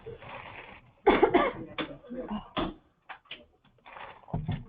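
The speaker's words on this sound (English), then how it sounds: "now I have a cough" A cough, loud and close, in an indoor committee meeting room, with several short bursts breaking through the background chatter; people talk nearby.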